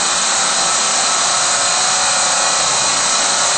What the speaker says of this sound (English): Turbo chiller.